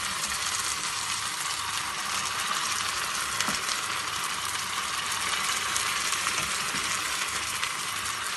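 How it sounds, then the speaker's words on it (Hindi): Steady, hissing sizzle of spices tempering in hot ghee for mustard greens, continuous and close, with a faint clink partway through. "तो अभी खाने के लिए मुझे जितना साग चाहिए मैं उतने में ही तड़का लगा रही हूँ।"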